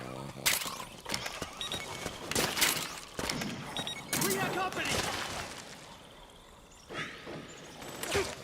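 Suppressing gunfire in Metal Gear Solid 4 cracks out in repeated sharp bursts and single shots, with mechanical clanks between volleys and a shouted voice mixed into the fighting.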